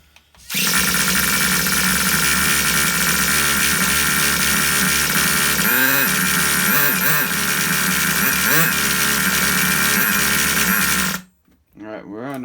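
The small nitro engine of a vintage Traxxas Rustler RC car, fitted with a cheap carburetor, screams loud and continuous for about eleven seconds with wavering pitch as the throttle is blipped, then cuts off abruptly.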